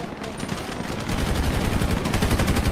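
Rapid automatic gunfire in an online shooter game match, a dense rattling stream of shots that grows louder and more continuous over a few seconds, with no voices over it.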